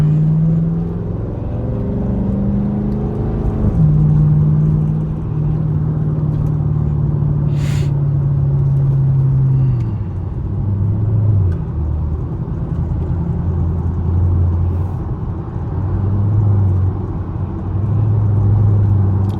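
A Chevrolet Camaro SS cruising back roads at night, its V8 rumble droning continuously with shifting low tones as it eases off and picks up speed, plus a brief sharp tick partway through.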